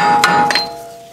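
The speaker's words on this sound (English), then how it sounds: "make sure you hammer it, because it needs to slip out" A hammer strikes a tie rod end on a VW Golf Mk4 twice, two sharp metallic hits in close succession, each leaving a short ringing tail. The ring fades within the second.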